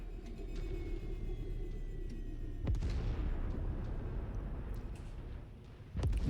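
A destroyed target explodes in the MechWarrior 5 video game, a deep rumbling blast that rolls on under steady low battle noise, with a second sharp boom hitting near the end.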